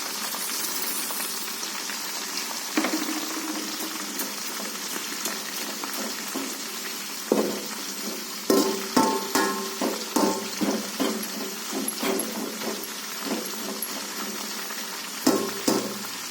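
Fenugreek seeds and black pepper crackle and sizzle in hot oil being prepared as homemade hair oil, a steady close frying hiss broken by bursts of popping and stirring clinks.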